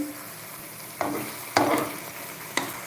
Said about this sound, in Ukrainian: Так, помідорки наші смажаться.